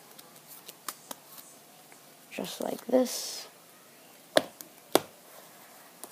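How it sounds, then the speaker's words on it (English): Playing cards being cut and shuffled during a card trick, heard as a brief burst of riffling and sliding card noise in the middle, followed by a couple of sharp snaps, with someone talking quietly throughout. "the magician gives the cards a few cuts and shuffles"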